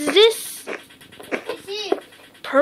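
Cartoonish dog panting from a Minecraft game character, a few quick breathy bursts with squeaky harmonic tones, close and fairly loud, interleaved with other game sounds.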